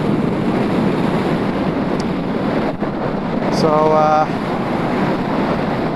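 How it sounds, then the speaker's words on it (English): Wind blowing on a hilltop buffets a camera held on a 9-foot selfie stick, giving a loud, continuous rumbling roar that dominates throughout, with a brief beeping tone partway through. "It's windy up here, and when you're holding your camera on a 9-foot selfie stick, the wind blows it around"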